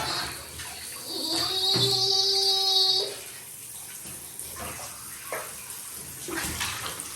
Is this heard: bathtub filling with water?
yes